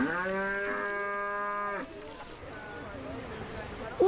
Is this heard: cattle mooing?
yes